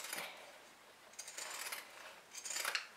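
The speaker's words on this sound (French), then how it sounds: "je vais prendre mes ciseaux cranteurs et je vais enlever le surplus de tissu." Pinking shears snip off surplus fabric while a crossbody bag is sewn, giving a few separate, crisp metallic cutting strokes, close and alone, with no talk.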